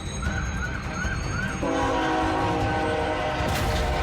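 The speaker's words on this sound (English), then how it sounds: "Unaware of another train coming from the opposite direction" A train rumbles past loudly at a crossing in Texas while its horn sounds in repeated rising blasts, then settles into a long sustained tone over the rolling noise.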